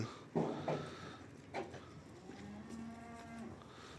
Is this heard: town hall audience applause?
no